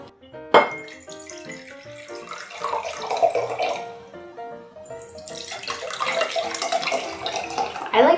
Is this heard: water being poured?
yes